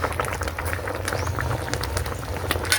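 A pot of vegetables for beef-skin kare-kare boils steadily, a close, continuous bubbling and popping simmer with no talk.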